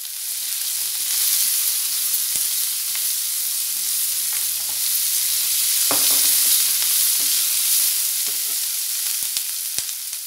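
Chopped capsicum fries in a pan for capsicum gojju, a constant loud sizzle broken by scattered clinks and scrapes as it is stirred.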